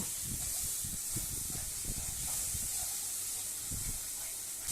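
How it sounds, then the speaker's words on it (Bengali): Water poured into a hot pan of tomato and spice masala sizzles with a loud, steady hiss that covers the whole stretch, over faint low stirring knocks. "এরপরে মশলার মধ্যে অল্প একটু জল দেব।"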